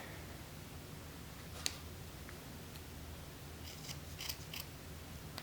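Scissors snip through excess yarn strands, a few quiet sharp cuts heard against faint background hiss.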